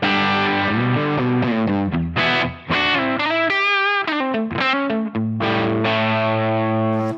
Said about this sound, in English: here is that tone with the guitar input impedance set to 1 mega ohm